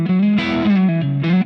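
Distorted electric guitar with a Strat single-coil tone shaped by an exaggerated pickup cut in a modeler, a few sustained fuzzy notes changing pitch in quick succession, played alone and close.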